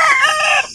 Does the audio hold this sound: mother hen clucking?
yes